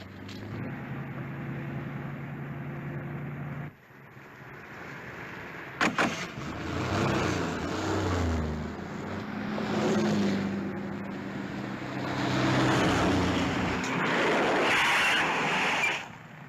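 Car driving on the road in a 1943 Batman serial, a steady engine and road rumble that breaks off briefly, then resumes with rising and falling wind-like noise and a few clunks, no talk.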